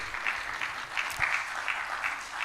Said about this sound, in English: Is that applause befitting of the chairman?